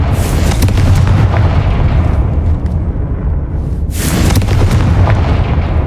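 Confringo fire spells bursting in Hogwarts Legacy, the video game: a sustained, very loud roaring explosion followed by a second blast near the four-second mark, dense and booming throughout with no voices.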